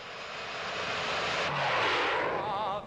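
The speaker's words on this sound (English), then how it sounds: "I'd like to see some jet planes then." Flying wing jet aircraft passes as a loud, sustained engine roar that swells and fades with a whooshing sweep, with no talk.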